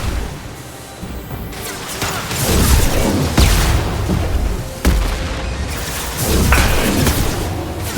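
A grenade detonates in Mass Effect 2 during the Warlord recruitment mission, with loud repeated booms and crashing blasts layered over rumbling battle noise, several heavy impacts landing across the stretch.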